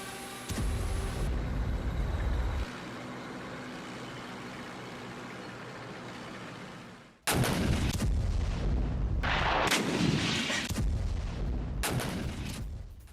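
Artillery shells striking buildings in Kharkiv during fighting, heard as loud, heavy booming blasts and crackling impacts, with a sustained rumble first, then a cluster of sharp explosive bursts.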